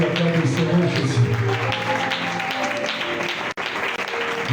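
Church congregation standing to acclaim and applaud during a worship service, a dense, steady wash of clapping and voices over music with a brief dropout near the end.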